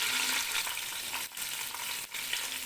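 Food fries steadily in a pan for Saudi kabsa, a dense close sizzle with two brief dips where stirring pauses. Nobody talks.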